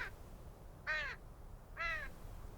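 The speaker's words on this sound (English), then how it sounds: "There's birds in the sky." Crows in the BRINK Traveler VR game give two clear, harsh caws about a second apart over a low, steady ambient hum.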